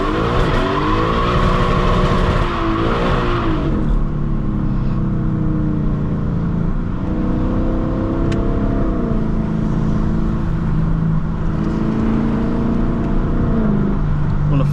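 Lexus LC 500 accelerating hard on a slick, rain-wet road, its engine rising in a loud, continuous rev that swells and dips as it pulls away, with tire and road noise running underneath throughout.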